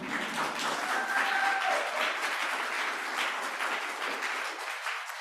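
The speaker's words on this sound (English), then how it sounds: "Yes, you may applaud." A church congregation breaks into sustained applause, a dense, steady wash of clapping from many hands that holds evenly and tapers slightly at the end.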